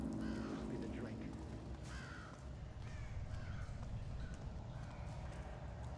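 Bird calling in the stealth video game Thief, a few harsh cawing cries over a busy background of soft clopping footsteps and ambient noise.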